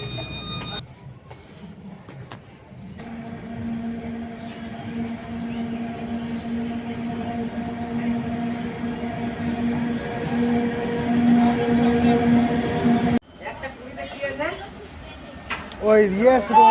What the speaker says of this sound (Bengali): তাতে ট্রেন আসুক